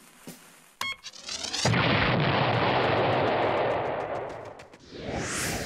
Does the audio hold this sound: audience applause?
no